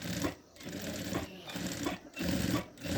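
A sewing machine stitches blouse piping in rapid runs broken by brief pauses, a close, busy mechanical rattle.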